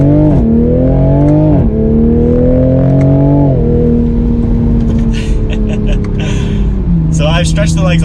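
A 2020 Toyota Supra sports car accelerating, its engine note rising and falling through several gear changes, loud and close with a steady revving drone.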